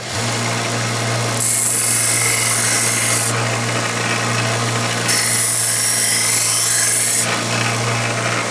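A knife blade is drawn across a 600 grit sharpening stone in two long, loud rasping passes, each lasting about two seconds, over a constant low background hum.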